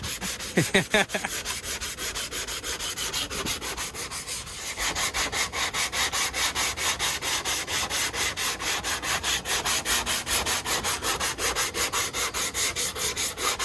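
Close, steady block sanding of body filler on a Honda CRX panel, repeated rasping strokes in a quick regular rhythm, with a brief knock and shift in pace early on.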